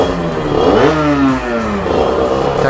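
A Sherco Factory supermoto motorcycle with a carburettor and 10,000 km on it revs up close by, with a deep, smooth engine note that climbs and falls once and then holds steady, with no talking.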